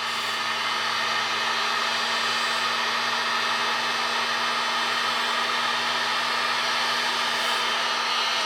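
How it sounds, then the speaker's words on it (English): Heat gun blasting steadily on heat shrink tubing over race truck wiring, a loud, continuous airy roar with a faint hum, holding even throughout with no pauses and no talk. "So I'm just gonna heat shrink this first"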